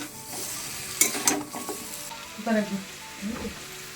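Sun-dried lentil dumplings being sautéed with poppy-mustard paste and turmeric, a soft sizzle under scraping stirs and a few utensil clinks against the pan, close and moderately quiet, no talk.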